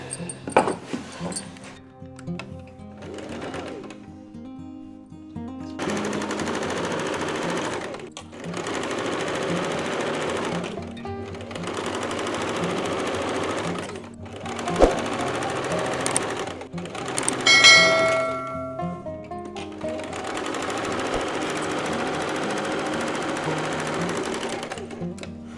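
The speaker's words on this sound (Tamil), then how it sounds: "இப்போ மேலே வந்து நம்ம ப்ரெஸ் தையல் போடணும்" A sewing machine stitches a U-shaped blouse neck in several sustained whirring runs, each lasting a few seconds, separated by brief pauses, close and steady.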